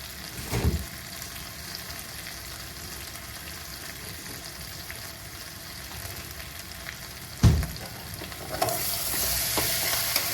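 Ghee and crushed garam masala of cinnamon and cardamom fry in a pan, giving a low, steady sizzle. Two sharp stirring scrapes cut through it, and the frying swells louder toward the end.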